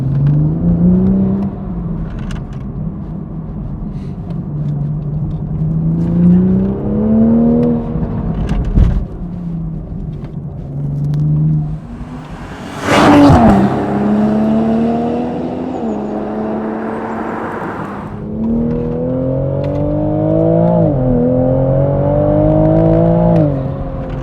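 Toyota Supra Mk5 with the B58 engine and a Supersprint OPF-delete exhaust, heard loud and close as the engine rises and falls through repeated revving pulls, with a whooshing intake under boost and a sharp burst partway through.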